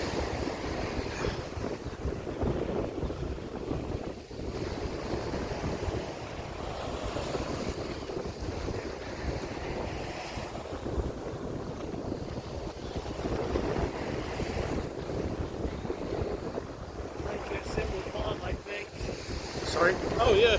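Wind buffets the microphone at Fernandina Beach, Florida, over a continuous wash of ocean surf, a steady broad roar with gusty swells and no clear voices.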